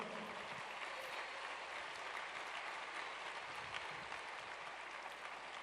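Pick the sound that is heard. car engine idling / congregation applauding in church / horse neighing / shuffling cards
congregation applauding in church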